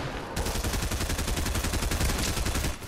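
Rapid automatic gunfire in the video game Fortnite, a dense close burst of shots in a fast even rhythm lasting a couple of seconds, loud and without speech.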